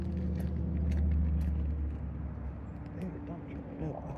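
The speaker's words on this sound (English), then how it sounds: "No, that's a diesel. Sounds like a dump truck." Diesel dump truck passing on a road near a flooded river, a low rumbling engine swelling and then fading as it goes by, with wind and faint background noise around it.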